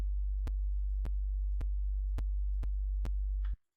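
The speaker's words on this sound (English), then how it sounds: "We're just adding more and more sine waves on top of each other." A low synthesizer tone built from stacked sine waves with shifting phase drones steadily, broken by six evenly spaced sharp clicks roughly half a second apart, then cuts off abruptly.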